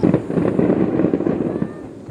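Fireworks bursting at the Amakusa Hondo fireworks festival make a dense run of booms and crackles. The display is loud and continuous, with no talk over it.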